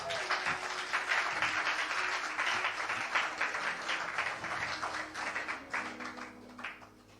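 A church congregation applauds together in a steady wash of clapping that rises and falls, with faint tones and murmuring voices underneath.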